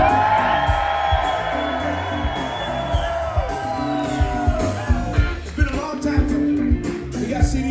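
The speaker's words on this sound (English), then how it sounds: "I want y'all to let a big old primal scream at me right now." A large crowd at an outdoor blues festival concert roars, screams and whoops loudly and continuously, with scattered sharp shouts and claps rising out of the din.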